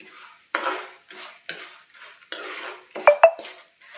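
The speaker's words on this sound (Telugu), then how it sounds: "శనగపప్పు బాగా వేపుకోవాలి." A utensil scrapes and clinks against a pan while chana dal roasts for ginger chutney, producing several close stirring scrapes and two sharper metallic taps near the end.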